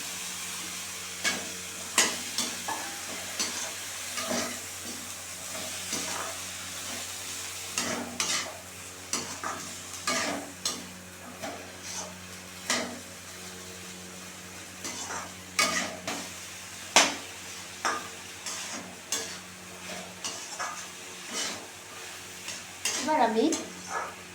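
Peas and potatoes fry in a pan for ghugni while a spatula stirs them, soft sizzling under frequent sharp scraping and tapping strokes, close and steady, with no voices.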